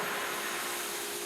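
Pool pump running on the rinse setting of a diatomaceous earth filter, a steady rushing whir of motor and flowing water, constant and fairly loud through the short stretch.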